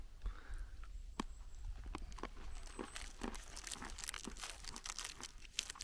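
Close, crisp crunching and crackling bursts repeat quickly and irregularly as teeth break through a dry biscuit from a French military ration and chew it, with no speech.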